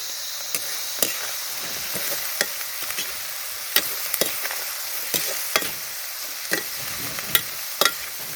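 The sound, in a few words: stirring and frying with salt and curry leaves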